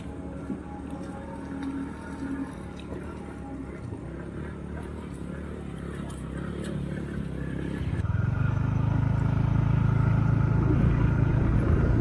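Continuous rumble of a vehicle engine passing close by, growing louder and heavier toward the end, with no talking.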